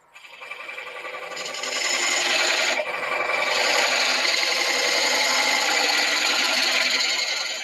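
Wood being cut for a tenon gives a continuous rasping, rubbing saw sound that builds up and holds steady and close throughout, with no talking.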